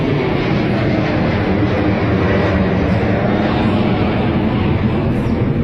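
An aircraft passes low overhead near Málaga Airport, a loud, continuous broadband engine roar that stays steady and dominant across the whole stretch.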